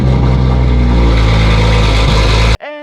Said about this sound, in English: we're gonna do a few scientific tests with this sound meter, starting with a cold start.